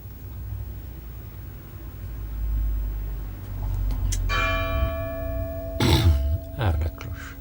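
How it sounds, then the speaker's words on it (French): A church bell rings out with a clear sustained tone, a few loud strikes whose ringing hangs and overlaps, heard over steady outdoor background noise with a brief throat-clearing nearby. "Ah, la cloche."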